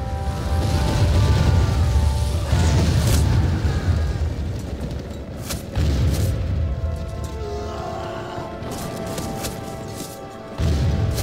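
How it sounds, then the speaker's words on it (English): Booming bursts of fireworks striking pikemen in a Thirty Years' War strategy game, a series of deep, loud blasts and crackling pops rolling one after another across the battlefield. "So these pikemen are also hit by fireworks now."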